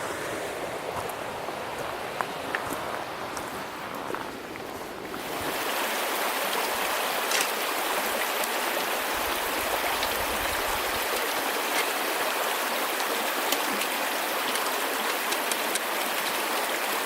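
Caney Falls on Caney Creek pours steadily, a dense continuous rush of falling water that grows fuller and louder after the first few seconds, close by with no voices.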